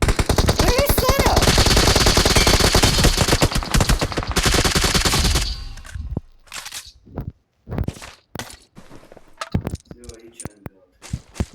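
SCAR-L rifle gunfire in a video game: a long, loud, continuous automatic burst gives way to scattered, sharp single shots and short bursts, with a player's voice speaking in between.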